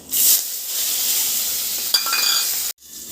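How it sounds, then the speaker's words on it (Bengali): Bay leaf with dry and green chillies hit hot oil, a loud sharp sizzle with a clink of utensils mid-way, then cut off abruptly as a lid goes on, leaving a muffled hiss. "তো এবারটা দিয়ে দেবো তেজপাতা, শুকনো লঙ্কা, কাঁচা লঙ্কা।"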